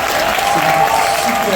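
Audience applause filling a church hall, a steady dense wash of clapping sustained throughout at close range, with voices mixed in.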